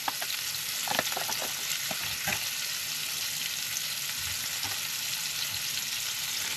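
A steak fries loudly in a pan with garlic and a sprig of rosemary, a constant sizzle broken by a few sharp crackles and scraping spoon sounds as the fat is basted.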